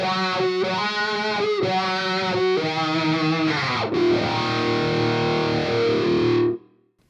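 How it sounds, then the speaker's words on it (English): Electric guitar through a Jerry Cantrell signature wah in a Fractal preset, with sustained distorted chords and a sweeping vocal wah, ringing out before stopping abruptly. "We have this set up to the Jerry Cantrell signature wah specifications in terms of frequencies."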